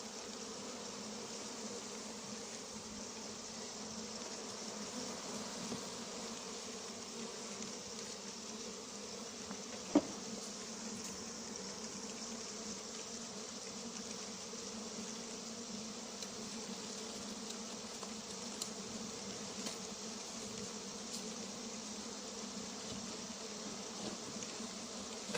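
A swarm of honeybees being recovered drones steadily and close by, a dense continuous buzz holding for the whole stretch with a few small knocks and no voices.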